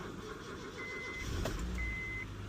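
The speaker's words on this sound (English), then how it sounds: "Cycle them, see if the engine will start." A Honda Civic engine cranks and catches using a newly cut key, a steady low rumble running throughout with a couple of faint electronic beeps.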